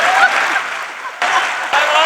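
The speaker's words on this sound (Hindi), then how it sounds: "तालियां।" Audience at a Hindi comic poetry gathering (hasya kavi sammelan) breaks into applause, bursts of clapping that swell, dip briefly and return in waves, fairly loud and close, with some crowd voices mixed in.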